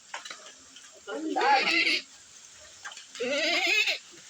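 A goat bleats twice nearby, two long, wavering cries separated by a short pause, over faint background noise.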